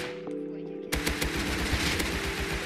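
Rapid AK rifle fire in the Rust video game, a close burst of repeated shots starting abruptly and continuing steadily, with faint talk around it.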